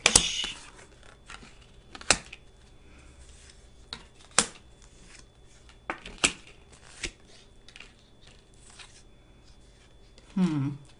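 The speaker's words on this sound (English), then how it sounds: "I'm going to lay out the cards and then I will share with you the message." Tarot cards are laid out one by one on a table, each giving a sharp snap or slap at spaced intervals over a quiet background, with a faint riffle near the end.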